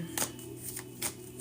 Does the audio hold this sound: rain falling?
no